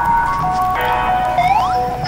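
Bright electronic game music from Doodle Jump, a short chiming melodic beat with rising synth glides and tones, playing alone for about two seconds.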